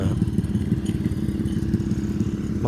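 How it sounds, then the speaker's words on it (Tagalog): Motocross motorcycles climb a hill, producing a continuous, fairly loud low engine drone with a slightly rattling, pulsing texture that holds steady throughout, with no speech over it. "Mga motor cross na ba?"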